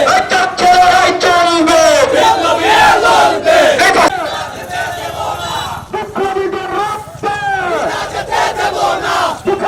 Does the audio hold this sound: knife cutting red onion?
no